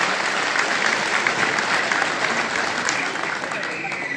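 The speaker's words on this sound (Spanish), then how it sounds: "para quien pido un fuerte aplauso, por favor." An indoor municipal council gathering in Teopisca, Chiapas, Mexico, breaks into steady, dense applause from a crowd, sustained evenly for a few seconds.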